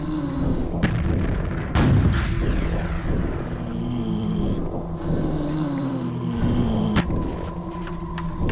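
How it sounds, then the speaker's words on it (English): Guided rockets launching and flying in a video game, sharp blasts followed by a rushing, whooshing flight roar with sweeping pitch, several sharp reports spaced through a continuous rumbling engine-like drone. "That's how you fly these guided rockets around"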